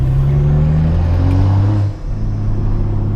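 A BMW M235i fitted with a Dinan carbon fiber intake revs, its engine tone rising in pitch, dipping briefly and then holding a loud, close, steady drone.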